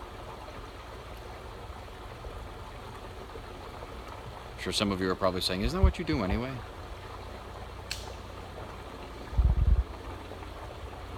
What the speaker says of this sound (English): we're over by a beautiful stream, river.